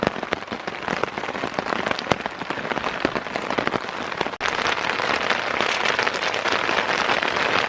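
Heavy monsoon rain drums steadily on a leaking tent and its failed tarp, a dense, constant patter with scattered louder drops, close and enveloping throughout.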